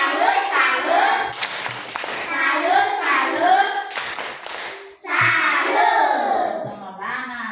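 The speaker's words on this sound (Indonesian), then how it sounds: "Oke, tepuk salut." Children perform the tepuk salut clapping routine in a classroom lesson, rhythmic bursts of hand claps mixed with their chanting voices, loud and close throughout.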